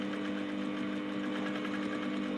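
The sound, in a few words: sewing machine stitching a corset seam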